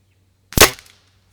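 A single sharp crack from a budget springer air rifle firing a Crosman pellet, close and loud with a quick decay in a quiet setting.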